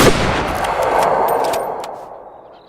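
A single hunting-rifle shot fired in Way of the Hunter 2, a loud broadband crack at the start followed by a long rolling echo that slowly fades over a couple of seconds, with no talking.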